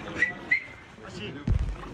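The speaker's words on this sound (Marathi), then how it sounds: "अशी शिट्टी" A person gives two short, bright whistle notes close by, followed by a soft thump.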